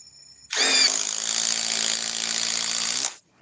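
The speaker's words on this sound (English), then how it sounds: "Now let's try to take it out with the drill." A power drill whirs steadily for about two and a half seconds after a sharp start, loud and close with a faint ratcheting edge, then cuts off abruptly; no one speaks.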